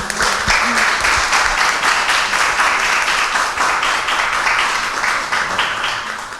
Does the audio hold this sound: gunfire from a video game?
no